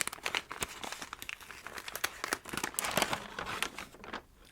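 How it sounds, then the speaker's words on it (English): A wrapped library book is unwrapped close up, its paper wrapping crinkling, crumpling and tearing in quick irregular rustles, soft and intimate, with no talk. "Unwrapping."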